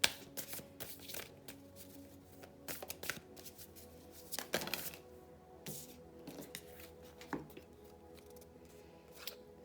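Tarot cards are shuffled and handled in a quiet room, giving soft, irregular riffles, slides and taps, faint and close, with no one speaking.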